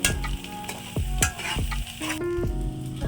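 Egg fried rice stirred and tossed in a hot pan, with repeated spatula scrapes landing roughly every half second over a steady close sizzle.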